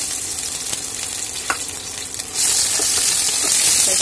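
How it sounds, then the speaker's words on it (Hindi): Chopped ginger, garlic, green chili and whole garam masala spices sizzle in hot oil in a wok for an eggplant curry, a loud, steady frying hiss that swells noticeably partway through. "थोड़े से साबुत गरम मसाले और जो अदरक, लहसुन और हरी मिर्च को जो मैंने रखा था चॉप करके इसको डालेंगे।"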